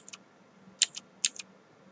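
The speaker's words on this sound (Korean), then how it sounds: "키보드의 방향키를 이용해서 위아래로 탐색을 할 수도 있습니다." Arrow keys on a computer keyboard are pressed in three quick, soft clicks, the last two coming as doubled taps, close and quiet in a silent room.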